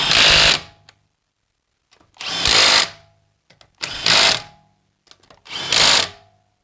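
A Milwaukee mid-torque impact wrench fitted with a torque stick fires four separate loud hammering bursts, each lasting just under a second, with short silent gaps between them.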